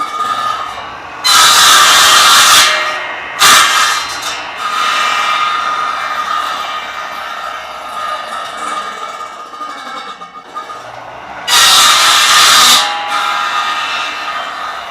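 Table saw cutting a joint slot in a piece of wood, with loud bursts of blade whine as the board is pushed through, separated by quieter stretches of the motor running, close and harsh.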